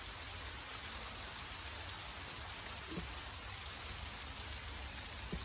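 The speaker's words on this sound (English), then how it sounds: "And it's raining again." Rain falls outside a garage as a steady, faint hiss of drops on surfaces, with a couple of soft taps standing out and no voices.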